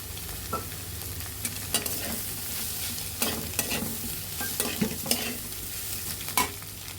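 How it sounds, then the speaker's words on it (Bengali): Potato stirred into beaten egg and carrot in a bowl, a soft continuous mixing sound with a series of light scrapes and taps of the utensil scattered irregularly throughout, near and fairly quiet, with no talking. "এখন গাজরগুলো একসাথে মিশিয়ে দিব এখন এর মাঝে আলুটা দিয়ে দেবো"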